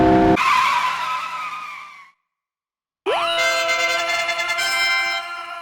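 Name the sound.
car skidding in cliff race minigame, video game Work Time Fun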